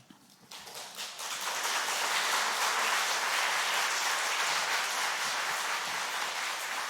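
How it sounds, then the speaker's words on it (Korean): An audience at a church seminar on Job and wisdom literature breaks into sustained, full applause after a closing prayer. The applause rises quickly and holds steady as a dense wash of clapping. "다시 한 번 더 큰 박수로 감사를 표하면 좋겠습니다"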